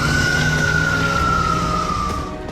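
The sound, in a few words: ambulance siren after attack in Majdal, Lebanon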